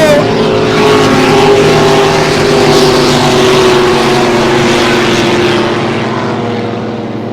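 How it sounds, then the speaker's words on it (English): Racing powerboat engines roar past at speed, a loud droning howl that slowly fades as the craft pull away into the distance. "Still going to be Weber driving boat number 1."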